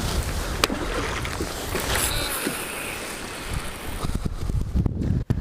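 Steady wind roars across a lake around a small fishing boat on a cold day, loud and buffeting the microphone, with water slapping against the hull underneath.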